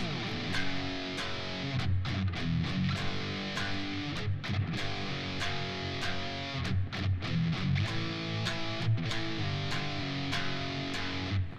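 Heavily distorted electric guitar plays a chugging, palm-muted main riff with sharp rhythmic accents, loud and continuous with no voices.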